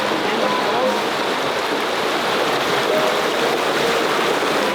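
Loud, steady, close rushing water as someone wades across a river in a rainforest, a dense continuous wash that holds level throughout without breaks.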